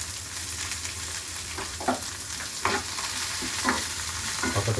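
Onion and garlic sauté in a pan for radish chutney, a steady loud sizzle with a few short scraping stirs of a spoon breaking through at intervals.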